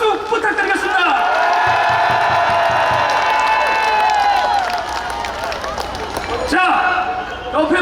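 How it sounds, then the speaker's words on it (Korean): Cheering crowd at a Korean political rally with scattered clapping and shouts, building loudly and continuing steadily, with a loud voice over the noise. "여러분 뜨거운 박수 부탁드리겠습니다"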